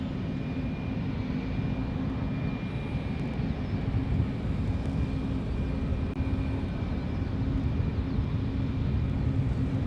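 An airplane takes off at Honolulu airport, its engines a steady, distant roar holding level throughout, with no voices.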